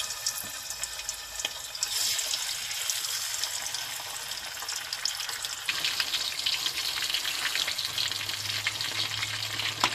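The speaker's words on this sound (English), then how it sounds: "In preheated oil, I will deep fry them." Chicken wings deep frying in preheated oil, a steady, dense crackling sizzle that fills the whole stretch with no voices, growing slightly busier partway through.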